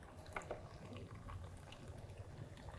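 Water pouring from an xBloom Studio coffee brewer, a faint, steady trickling and splashing over a low background rumble, quiet and continuous with a couple of soft drips near the start.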